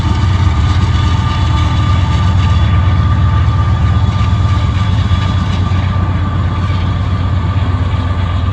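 A Norfolk Southern freight train passes in the evening as a loud, continuous low rumble and engine drone with steady grinding noise, unbroken for the whole stretch and without voices.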